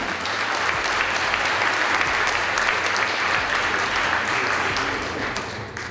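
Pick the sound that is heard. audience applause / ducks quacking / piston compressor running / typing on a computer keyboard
audience applause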